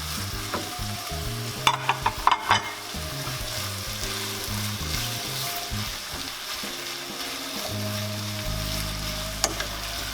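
Chili peppers frying in a non-stick pan while being stirred, a continuous crackling sizzle with occasional sharp scrape and clatter accents over a steady tonal background.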